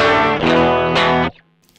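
Stock Mexican Fender Stratocaster through a Joyo AC Tone pedal strums two quick overdriven chords that cut off sharply, followed by a brief quiet tail, close and alone with no talking.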